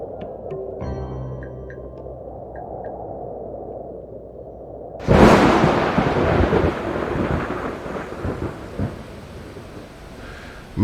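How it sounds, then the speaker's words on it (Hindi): A thunderstorm with heavy rain: a steady downpour, then a loud, close thunderclap crashes in midway and rumbles on under the continuing heavy rain. "बरसात का हाल न पूछो, खुदा का कहर है।"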